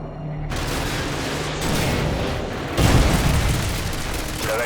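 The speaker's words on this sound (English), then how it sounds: "AGM missile is online." An AGM missile strikes its target in the Call of Duty: Modern Warfare 2 campaign: heavy rumbling booms and roaring blast noise, swelling louder partway through amid battlefield din, with a voice briefly heard.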